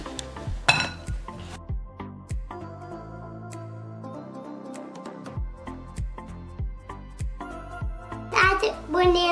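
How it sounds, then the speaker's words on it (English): A whisk or spoon mixes carrot cake batter in a bowl, making repeated light clinks and taps against the side in a steady rhythm over soft background music. "My friend, mix it well till the color change."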